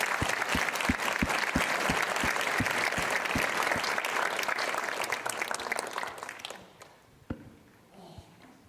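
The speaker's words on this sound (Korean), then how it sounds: "큰 박수로 환영하겠습니다" Audience applause welcoming a pastor to the front of a Korean church service, broad clapping from a large congregation that fills most of the clip, then fades to a few scattered claps near the end.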